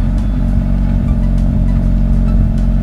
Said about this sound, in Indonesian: kalau kalian baru nyalain mobil, suara mesinnya bakal kedengaran standar kayak gini-gini aja